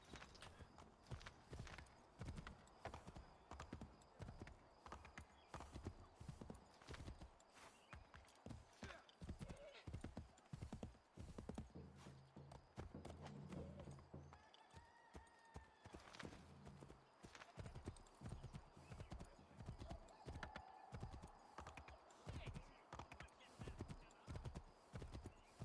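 Horse hooves clip-clop steadily in Assassin's Creed III, a rapid, even patter of gallop and trot across the whole stretch, with an occasional whinny and game voices talking over it.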